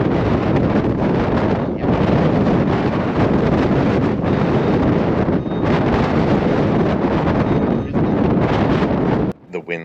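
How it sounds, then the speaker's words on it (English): Strong gusting wind, with gusts above 60 mph, roars continuously against the camera microphone in a loud, close buffeting rumble that dips briefly and cuts off near the end. "The winds were so strong they were knocking the camera around"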